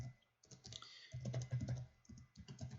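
Quick, light clicking of keys on a computer keyboard while HTML code is typed, close and fairly quiet, with an irregular burst rhythm and no voices.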